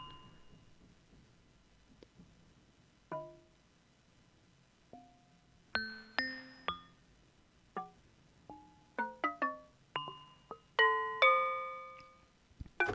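Slow, sparse percussive synth hits from a Waldorf Iridium and Korg Wavestate in an ambient patch: bell-like plucked tones ring out alone at irregular intervals, clustering into quicker flurries toward the end over a faint soft bed.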